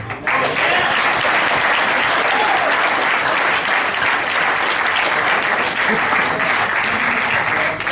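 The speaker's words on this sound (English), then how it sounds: "She deserves another big round of applause" A student audience gives a speaker a big round of applause at a Google Student Ambassadors empowerment session, loud, dense and sustained clapping that fills the room from start to finish.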